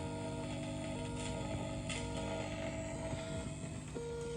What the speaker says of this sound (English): And then your flux capacitor will start buzzing.